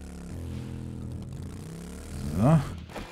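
A motorcycle engine in the Preppocalypse video game: a steady, droning engine hum that swells briefly to a short, louder, wavering note near the end.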